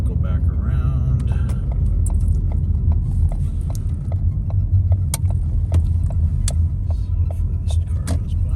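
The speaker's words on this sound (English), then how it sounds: "Hopefully this car goes by me" A car rolls along at night in Loleta, a steady low rumble heard from inside with faint ticking and clicking, and no clear passing swell.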